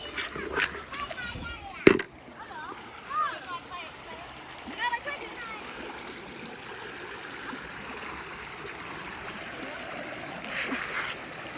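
Steady, faint rush of flowing water runs throughout, with a sharp knock early on and a few scattered splashes and distant voices.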